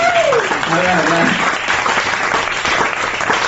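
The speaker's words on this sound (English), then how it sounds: "Let's get the claps back in the room, guys." Audience applause in a comedy podcast room, steady dense clapping throughout, with a voice talking over the start.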